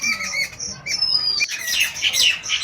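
A crow caws in a series of harsh, rasping squawks, close and fairly loud, with overlapping calls in quick succession.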